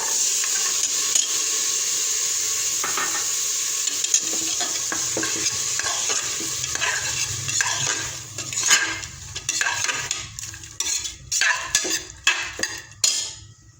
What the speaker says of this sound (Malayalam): ഇനി നമുക്ക് ക്യാരറ്റ് ഇട്ട് കൊടുക്കാം. ഗ്രീൻ പീസ് ഇട്ട് കൊടുക്കാം.